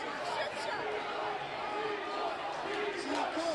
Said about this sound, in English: What is the crowd chanting?